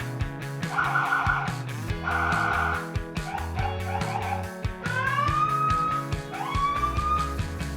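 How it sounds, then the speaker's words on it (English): An aftermarket siren system on a 2020 Dodge Durango cycles through several loud electronic tones, wailing and yelping patterns switching every second or so, close and continuous with no talk. "This controller also activates multiple sirens available for you to use."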